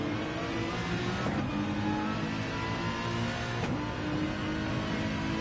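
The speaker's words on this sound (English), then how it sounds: "how good does this Aston Martin sound?" An Aston Martin race car engine in Gran Turismo 7 drones steadily and loudly, a sustained revving hum with a couple of brief gear-shift bursts.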